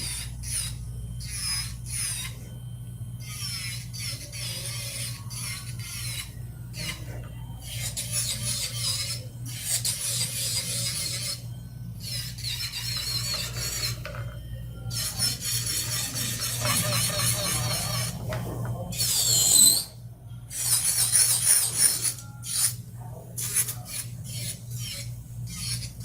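Intermittent high-pitched whirring of an electric nail drill with a 5-in-1 bit smoothing a nail in short bursts, with a steady low hum underneath and no talking.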